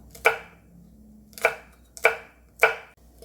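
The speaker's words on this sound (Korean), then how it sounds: "홍고추하고 청양고추 한 개 어슷 쓸기 해주세요." Knife slicing red and cheongyang chili peppers diagonally on a cutting board for a spicy pollock stew, four crisp, evenly spaced chops close up with quiet pauses between them.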